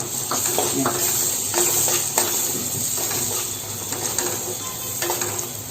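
Soaked chana dal sizzles in an oiled pan over low gas while a spoon scrapes and clinks against the metal, frying hiss with intermittent stirring knocks close by and a little quiet speech.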